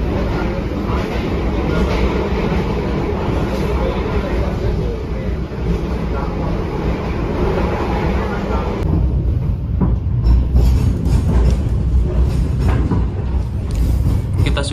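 Onboard the Gajahwong passenger train between Lempuyangan and Bekasi at about 120 km/h, a loud steady roar of wheels and rushing air that shifts in tone partway through, with talk faintly mixed in.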